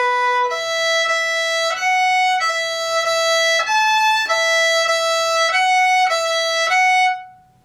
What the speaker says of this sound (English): So without me singing, that section sounds like this.